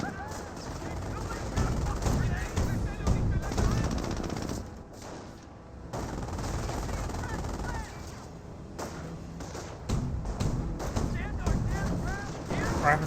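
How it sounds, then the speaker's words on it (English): Real-time strategy battle in Company of Heroes, set in World War II, with bursts of rifle and machine-gun fire and thumping mortar rounds from a half-track, dense and uneven, alongside clipped unit voice lines and effects throughout. "I do hear what sound like a mortar. That's probably from the mortar half track."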